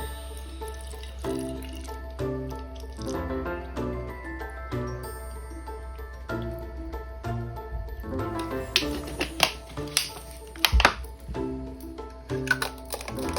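Distilled water trickles and splashes steadily into a bottle, with small drips and clinks toward the end, close by and fairly quiet.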